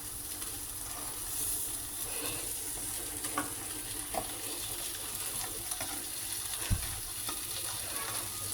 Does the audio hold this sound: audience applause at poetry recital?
no